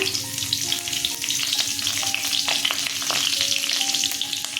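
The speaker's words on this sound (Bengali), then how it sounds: "কাঁচা লঙ্কা ফোড়ন দিয়ে দিলাম" Green chillies tempered in hot oil for a tomato katla fish curry, giving a steady, close sizzle with crackling pops and scraping stirs throughout and no voices.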